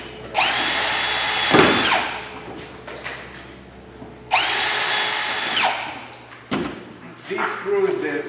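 A power drill drives heavy-threaded construction screws into cement board in two long whining bursts that rise and wind down, with clicks and knocks between them and a person talking nearby.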